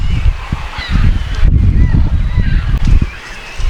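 Seabirds calling over Bird Island near Las Glorias, Sinaloa, Mexico, a steady chorus of honking, goose-like cries from a large colony, close and loud, with the low rumble of a boat and wind underneath throughout.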